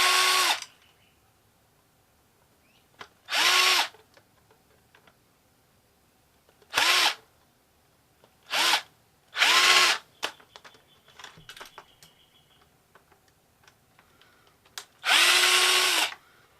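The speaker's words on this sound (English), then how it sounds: "I'll keep taking screws loose." A power drill loosens screws in several separate bursts of whirring, each lasting about half a second to a second, with quiet pauses and faint handling noises between them.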